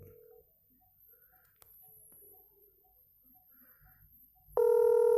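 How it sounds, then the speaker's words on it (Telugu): A mobile phone call to a US number being placed after the call button is pressed: faint beeps and quiet clicks, then a loud, steady ringback tone starting near the end. "కాల్ రింగ్ అవుతుంది నాకు."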